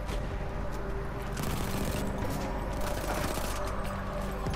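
Battlefield 1 gunfire in a busy firefight, a steady clatter of repeated shots mixed with mechanical rattling and distant bangs, loud and continuous with no talking.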